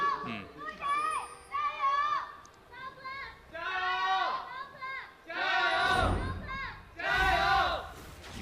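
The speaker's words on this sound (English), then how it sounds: "Hear the fans cheering on." Arena fans at a 2018 LPL Spring Split League of Legends match between Suning Gaming and FunPlus Phoenix shout and cheer in rising and falling waves, loud and close, with the swells growing stronger toward the end.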